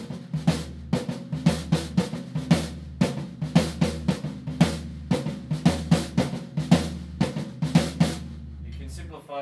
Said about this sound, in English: The bass drum sounds like this.